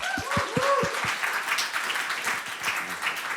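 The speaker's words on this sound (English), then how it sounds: "Big applause for him." Crowd at the Game Days 2023 conference welcomes a guest speaker with sustained applause, opening with a few whooping voice-like cheers before settling into a full, even clatter of clapping.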